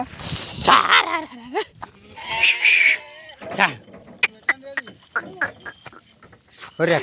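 Several sheep bleat nearby at irregular intervals, with some overlapping calls and a few quieter bleats in between.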